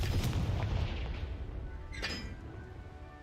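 A Confringo blast spell goes off in a video game, a booming explosive burst with crackling debris that fades, then a second sharper burst flares near the end.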